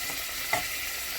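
Pork chops and vegetables fry in a pan with a steady, even sizzle throughout, and a brief small pop near the middle.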